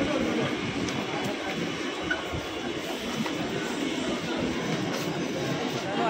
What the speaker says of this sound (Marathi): आता मी ट्रेन पकडून जाणार ग्रँड रोडला।